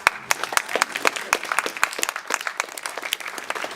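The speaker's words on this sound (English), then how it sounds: "Can we give applause to that?" An audience at a civility rally breaks into applause, a dense patter of many hands clapping at moderate distance that continues steadily without voices.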